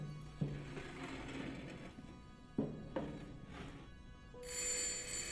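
Telephone ringing inside a lighthouse in the horror game Layers of Fear (2023), with mechanical clunks and a tonal chime among ambient drones.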